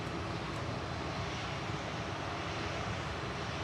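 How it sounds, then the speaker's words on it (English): A Ryanair airliner operated by Malta Air and bound for Verona gives off a steady, distant engine rumble at Manchester Airport, fairly faint and with no voices. "Ryanair operated by Malta Air in front of us, going to Verona"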